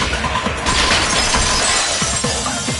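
A vase smashes in an entrance hall, a loud burst of breaking glass or ceramic that crashes and scatters for nearly three seconds, with no voices over it.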